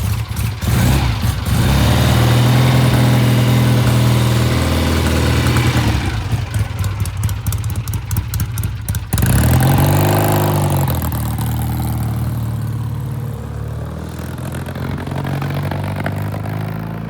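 Kevin's car idles roughly and loudly up close, its engine stumbling and breaking up with uneven clattering pulses, a rattly stretch in the middle and a throbbing wobble as the idle fluctuates.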